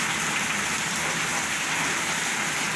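Heavy afternoon rain pours over a small garden with money plants, a dense, loud, unbroken hiss of falling water close by, with no other sounds.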